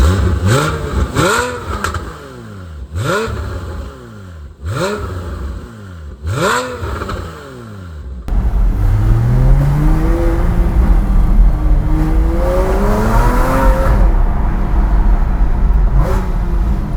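A Porsche 981 Cayman S fitted with Fabspeed F1 headers gives several sharp throttle blips, each rising and falling quickly, then a long sustained rev that climbs steadily, loud and close with no talking.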